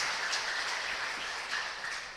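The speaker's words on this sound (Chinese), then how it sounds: "将我们的掌声都荣耀归给那配的赞美的阿爸父神" A church congregation applauding during a Sunday worship service: a dense, steady wash of clapping from many hands that fills the whole brief moment, with no talking.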